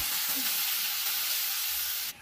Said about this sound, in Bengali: এখন সবকিছু ভালো করে একসাথে মিশিয়ে নেব।